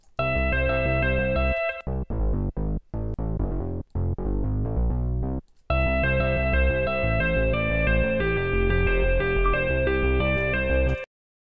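EDM bass preset playing alongside a guitar melody in harmony, a loud processed tone with effects and distortion, broken by brief gaps in the first half, then sustained steadily to the end without speech.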